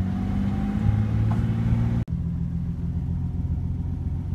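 A turbocharged Datsun 280ZX engine idles at a steady, deep rumble with faint harmonic tones, close and continuous, broken by one brief dropout midway before the even idle resumes.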